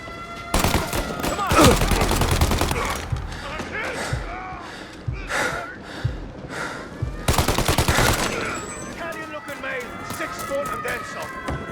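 Rapid bursts of automatic gunfire from the video game Mafia: Definitive Edition, dense volleys in two main clusters with sharper single shots between, loud and near, with voices talking in between.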